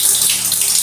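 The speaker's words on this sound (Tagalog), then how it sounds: "Subukan natin yung gripo." Water runs from a household faucet fed by an overhead tank, a steady hissing splash that is close and fairly loud, with no talk.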